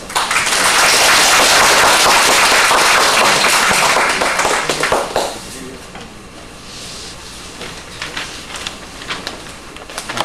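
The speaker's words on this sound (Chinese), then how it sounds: "今天我们就很热烈的掌声欢迎" A room of teachers gives a professor a warm welcome at a school talk, loud dense clapping for about five seconds that then thins into scattered claps and faint shuffling.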